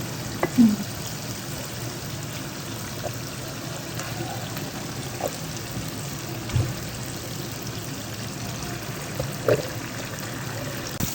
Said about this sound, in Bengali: এখন আমরা চিকেনটা দিয়ে দিচ্ছি চিকেনটা আমরা ভালো করে কষাবো অনেক ভালোভাবে কষাবো চিকেনটা